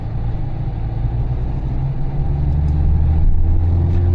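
A car engine accelerates during a driving lesson: a steady low rumble that swells gradually louder over a few seconds, close and continuous with no talk.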